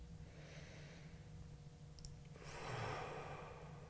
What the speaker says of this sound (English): One last breath.